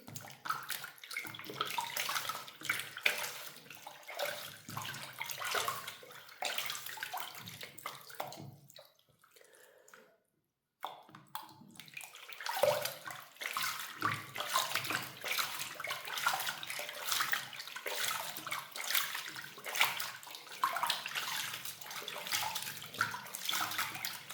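Tap water runs steadily into a basin or tub as yarn soaks without washing powder; a continuous splashing, gurgling flow, close and fairly quiet, briefly stopping midway before resuming, with no talking.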